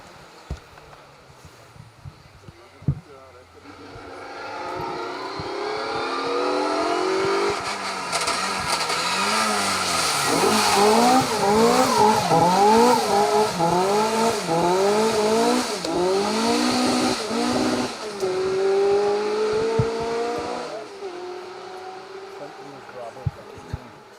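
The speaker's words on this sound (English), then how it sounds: "Hugh Morris, Daniel Johnson doing their very best to break a drive shaft, not managing it at the hairpin here, but giving us plenty of hot tyre smell" Rally cars on an asphalt stage power through a hairpin, engines revving hard and rising and falling as they accelerate out, with tyre noise and a commentator talking over the loud passing cars.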